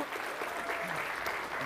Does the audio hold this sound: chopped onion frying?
no